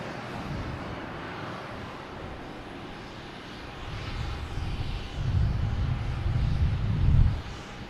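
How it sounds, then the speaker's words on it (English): Lufthansa airliner lined up on runway 4 right at Boston Logan, its engines a steady low rumble that swells louder toward the end as thrust builds, with wind noise on the microphone. "we have Lufthansa lined up on 4 right"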